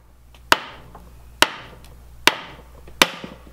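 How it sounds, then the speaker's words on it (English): Four sharp mallet blows strike an 02M transmission case to split it apart, evenly spaced, loud and close, each with a short ringing decay. "It'd be better to hit that with a mallet."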